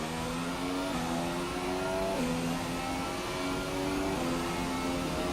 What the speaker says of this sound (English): The engine does not sound good at high revs.